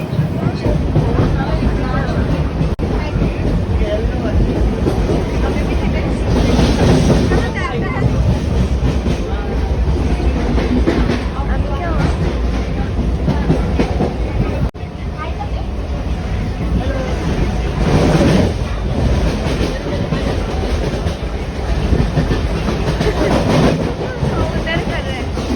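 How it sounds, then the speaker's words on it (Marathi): Passenger train pulling out of Virar station, a loud continuous rumble and clatter of the carriages heard from inside, with swells of wheel noise and a background murmur of passengers. "आणि ट्रेन लगेचच सुटली आहे विरार स्टेशनवरून"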